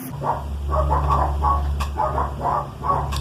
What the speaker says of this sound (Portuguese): são os cachorros do vizinho atrapalhando aqui a gravação